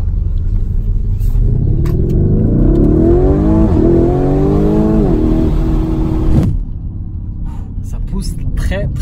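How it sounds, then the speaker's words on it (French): The V8 engine of a Lamborghini Urus SUV roars as it accelerates hard, pitch climbing through gear shifts before cutting off; a voice can be heard over it. "On va se faire une petite accélération."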